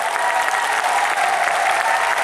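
A large crowd at an election rally in Bihar claps loudly and continuously, a thick, even roar of applause with no pauses, heard close.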